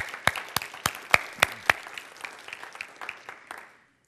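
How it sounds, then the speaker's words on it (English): Church congregation clapping, a few sharp distinct claps at first that thin into scattered softer applause and fade out within about four seconds. "You can clap for that."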